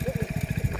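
A motor starts up close by with a fast, pulsing engine chug that repeats steadily through the short moment.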